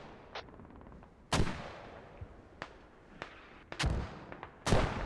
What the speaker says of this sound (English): Still mortars rocking.